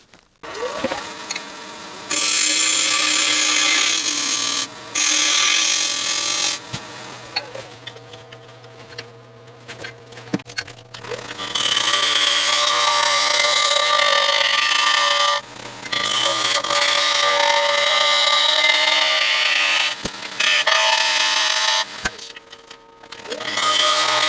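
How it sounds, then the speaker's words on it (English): A wood lathe turns the outside of a green wood bowl, with tool-on-wood cutting bursts that rise and pause in long passes over a low motor hum, close and fairly loud. "I'll be able to true up the tenon and turn all the warp away from the outside of the bowl"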